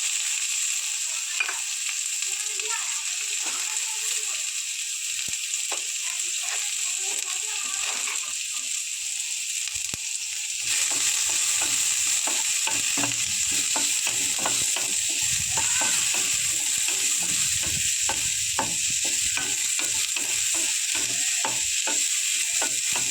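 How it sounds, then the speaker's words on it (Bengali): Sliced onion frying lightly in oil in a pan over black cumin seeds for a bhetki fish curry, a steady close sizzle that grows busier midway with scraping and stirring clicks; no talk. "পেঁয়াজটা বেশি কড়া করেই ভাজবো না হালকা করে ভাজবো"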